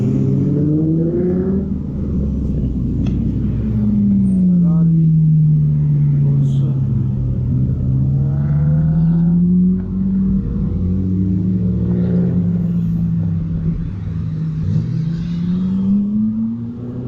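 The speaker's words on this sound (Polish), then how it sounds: "Teraz Porsche zjeżdżają." Porsche cars descend a mountain road on the Route des Grandes Alpes, their close, steady engine drone swelling and easing as revs rise and fall, with a continuous low rumble throughout.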